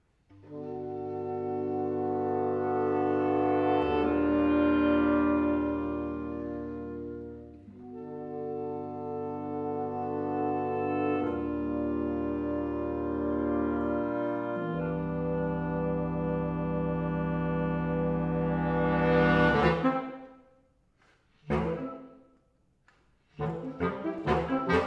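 A reed quintet including saxophone, clarinet, bass clarinet and bassoon playing together, sustained layered chords shifting every few seconds, full and close, then a short pause and a few scattered clicks at the end.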